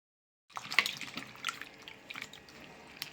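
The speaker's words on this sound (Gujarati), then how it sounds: "આ રીતે ધોઈને પાણી નીચોઈને કાઢી લઈશું." Tomatoes being washed make soft, close splashes and drips of water in a quiet kitchen. The sounds come in a few irregular bursts after a brief silence, and no one speaks.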